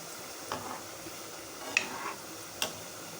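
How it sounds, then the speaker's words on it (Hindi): Gulab jamun frying in oil give a quiet, steady sizzle, with a few faint clicks and light stirring sounds scattered through it. No one speaks. "ये देखिए, ये हमारे गुलाब जामुन फ्राई हो रहे हैं"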